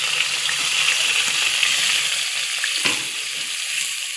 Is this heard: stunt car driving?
no